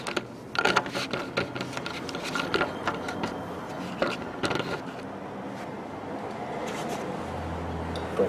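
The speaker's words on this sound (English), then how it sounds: "I'm putting this wrench underneath to lock the bolt" A wrench ratchets and clicks against a bolt on a mobility scooter transaxle, a run of close, irregular metallic clicks and clatters over a steady background hum.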